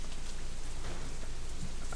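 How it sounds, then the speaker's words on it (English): Rain falls steadily in the side-scrolling survival video game Deadlight, a continuous dense hiss of drops with a low rumble underneath and no pauses across the short stretch. "It's raining, man."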